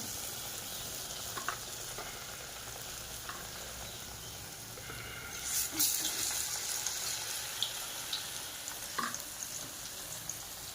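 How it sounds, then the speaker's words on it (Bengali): Battered eggplant fritters (beguni) fry in a generous amount of hot oil, a steady close sizzle throughout with occasional clinks and a brief louder hiss partway through, no talk. "একটা একটা করে ভাজবো না, যেহেতু অনেকটাই তেল দিয়েছি।"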